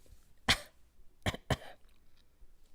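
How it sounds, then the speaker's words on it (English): A man in a quiet room gives three short, dry coughs, one alone and then a quick pair, close and distinct against near silence. "He coughed dryly before saying,"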